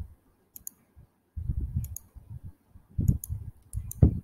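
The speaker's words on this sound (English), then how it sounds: "Right click another point here." A computer mouse is right-clicked, giving a few crisp, close clicks spaced irregularly among soft low handling noises.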